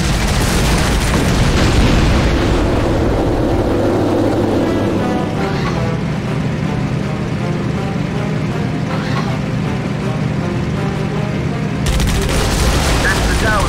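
Gunfire and booming blasts from enemy guard towers in the WWII flight combat game Heroes Over Europe, heard as a dense, loud barrage of explosions and engine roar that runs throughout, with a voice speaking over it.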